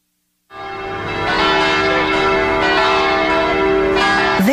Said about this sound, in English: Church bells would toll to summon worshippers